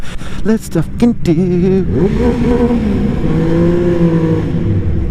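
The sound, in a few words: 2016 Triumph Speed Triple S engine revving in tunnel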